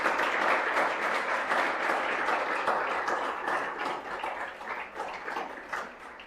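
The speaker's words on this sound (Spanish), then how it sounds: "Vamos a dar un aplauso al Señor de verdad." A church congregation claps together in sustained applause, a thick wash of many hands that stays strong at first and then gradually loosens and fades over several seconds.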